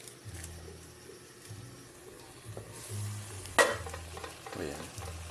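Shrimp frying in a pan gives a steady low sizzle, broken by occasional stirring scrapes and one sharper clatter near the middle, heard fairly close with no talking.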